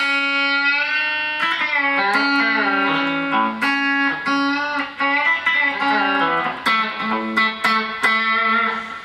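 Electric guitar playing country-style melodic lines, run through effects and distortion that give it a sliding steel-guitar feel, with sustained bent notes and chords, loud and continuous.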